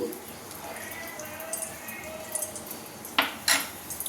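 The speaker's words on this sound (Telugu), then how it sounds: "ఈలోపు ఆయిల్ వేడెక్కేలా గిన్నె పెట్టి ఆయిల్ వేడెక్కిస్తాను." A metal pot is set on a kitchen stove to heat oil while ivy gourd dal cooks. After a quiet stretch with soft background noise, two sharp, close metallic clanks ring out near the end.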